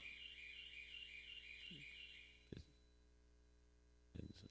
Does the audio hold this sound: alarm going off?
yes